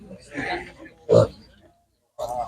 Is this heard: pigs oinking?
yes